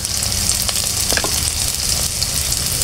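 Garlic paste, ginger and cumin paste fry and are stirred in a pan, giving a dense, constant sizzle with a few soft scraping strokes close by.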